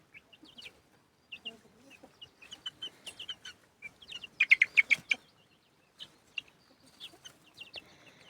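Chickens cluck in short scattered bursts nearby in a small pen, with a louder run of clucks partway through and a few thin chirps of chicks around them.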